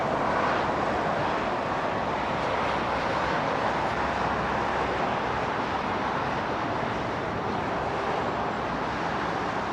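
A departing airliner bound for Amman roars steadily off runway 09R at London Heathrow, a broad continuous rumble that holds loud throughout with no break.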